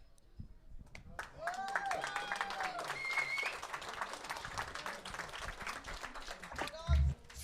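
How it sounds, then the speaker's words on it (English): Crowd cheering and applauding in an esports state championship venue, a dense sustained wash of clapping and shouts from many people, fairly near, with a louder burst near the end. "A little bit of a crowd pop. I heard that one."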